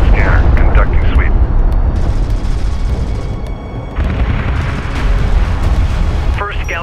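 Bomber aircraft in the real-time strategy game Homeworld: Deserts of Kharak, a loud continuous engine roar mixed with booming explosions, running under radio voices that speak throughout.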